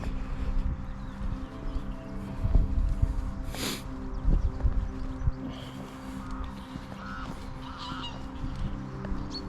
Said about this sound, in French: J'entends des oies cendrées par ici